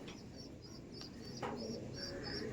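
Kalanka pigeons coo softly in a loft, with faint scattered calls and chirps over a low background hum.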